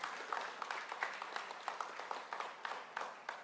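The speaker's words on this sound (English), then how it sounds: "Please give Al Hutchinson a round of applause." Audience applause after a speaker honors Al Hutchinson at a CIAA tournament announcement with state leaders, a steady wash of many hands clapping at moderate distance, fairly faint, with no talk over it.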